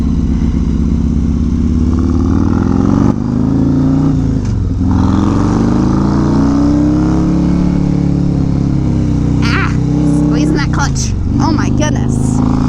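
A motorcycle running at speed on a freeway gives a loud, continuous engine drone with shifting pitch and rushing wind noise, heard from the rider's position, with a voice speaking briefly over it near the end.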